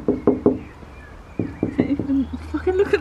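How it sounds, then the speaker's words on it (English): Knocking on a door at a holiday stay in Cornwall: three sharp knocks, a pause, then three more, close and fairly loud, with soft voices following. "Knock on the door."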